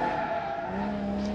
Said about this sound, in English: bit of a drift